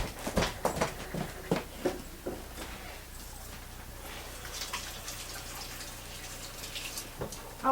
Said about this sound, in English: I'm going to wash my hands also